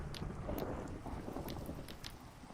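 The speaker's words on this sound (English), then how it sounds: "Oh wait, it's raining." Rain falls in Minecraft as a steady, even hiss of pattering drops with faint scattered ticks, continuous and moderately quiet throughout.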